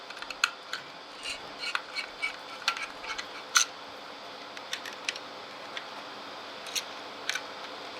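A screwdriver works the silver inner screws loose on a Concept2 PM5 rower monitor, making small close-up scratchy clicks and ticks in an irregular scatter over a quiet background.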